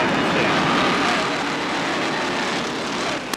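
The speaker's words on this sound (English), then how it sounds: "The Apache helicopters now in their hover and begin to chase the field" Apache helicopters hover over a NASCAR race, a loud, broad engine roar rumbling steadily like aircraft overhead, with no clear rotor chop, fading slightly toward the end.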